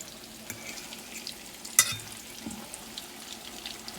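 Meatballs frying in a pan, a faint steady sizzle with a few soft clicks and one sharp clink, close by and without talk.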